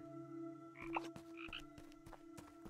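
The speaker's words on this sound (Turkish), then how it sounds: "Kurbağa sesi geliyor bir yerden." Frog croaking in the video game Ikonei Island, a few distinct croaks clustered around the middle of the clip over a steady game music background, no talking.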